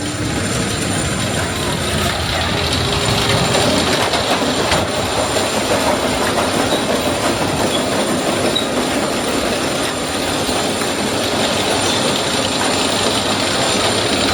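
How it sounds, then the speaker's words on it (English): A loud, steady mechanical rumble with continuous clattering and metallic rattling of a roller coaster chain lift hill and its anti-rollbacks at Blackpool Pleasure Beach, carrying on without a break. "love the iconic sound of the lift hill and the anti-rollbacks of the big one"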